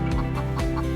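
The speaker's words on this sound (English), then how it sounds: "That's a big old fat chicken right there." A big, fat farm chicken clucks close by in a coop, a loud rhythmic run of short clucks over a steady low background hum.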